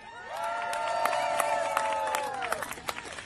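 A crowd at an outdoor Capitol Christmas tree lighting cheers and claps for Larry, a steady swell of distant voices and scattered applause lasting a few seconds, fading into sharper individual claps at the end.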